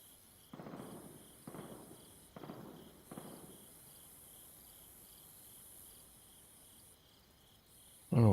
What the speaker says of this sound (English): I don't know where those other shots are coming from.